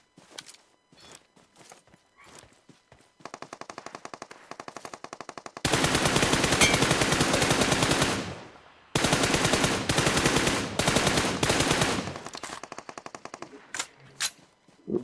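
Automatic gunfire in the BGMI battle royale game, with long sustained bursts of rapid shots that are loud and close, separated by short pauses, mixed with quieter footsteps and scattered single shots, with no talk.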